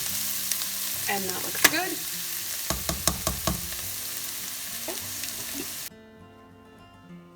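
Garlic being sautéed in a pan for cabbage soup: a steady sizzle with a run of sharp spatula knocks and scrapes against the pan, then the frying drops to a quieter hiss near the end; a voice speaks briefly.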